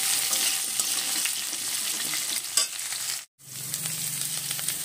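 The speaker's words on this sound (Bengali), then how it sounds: "আমি এবার পটলগুলো দেব। পটলগুলো দিয়ে একটু নেড়ে চেড়ে নিয়ে" Pointed gourd frying in a pan with oil, a loud continuous close sizzle with stirring scrapes, a brief gap, then the sizzle resumes with a low hum underneath.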